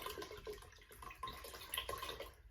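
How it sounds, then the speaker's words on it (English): Water poured from a bottle into a pressure cooker, a faint, gurgling trickle with small splashes and drips over a couple of seconds, heard alone with no voices. "And then I got a bottle of water because I like my stuff filtered."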